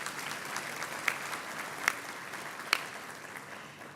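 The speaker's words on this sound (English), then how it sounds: "I do think it's appropriate to give yourself a round of applause that you are here." Audience applause at a university graduation ceremony, a soft, steady patter of many hands clapping in a large hall, fairly distant, with a few sharper individual claps punctuating it before it gradually thins out.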